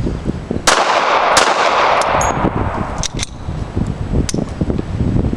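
A gun being cocked: a few sharp metallic clicks and clacks stand out over a steady, loud, noisy background, with no talking.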